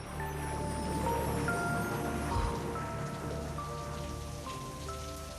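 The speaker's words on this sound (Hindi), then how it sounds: "ये बरसात" Heavy rain pours steadily outdoors as a dense, continuous hiss and patter, with faint tonal hums underneath and a brief low thump midway.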